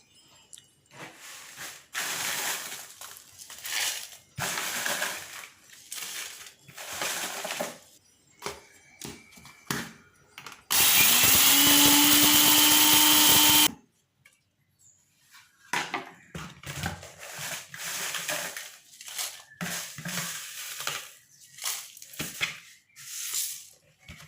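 A kitchen mixer grinder whirs loudly for about three seconds, coarsely grinding dried chillies for lemon pickle, between stretches of rustling and handling noises.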